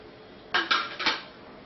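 A pan set on a gas flame takes stuffed chillies, giving three or four quick metallic clinks and clatters of cookware against a quiet kitchen background.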